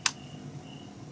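A Samsung CS29Z40HE CRT television with a standby fault gives one sharp click as it is switched on. The click is short and close, and faint room noise follows it.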